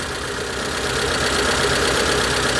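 Proton Satria car engine misfiring because of a broken fuel injector, running as a steady close rumbling drone with a rough, uneven knock and no voices.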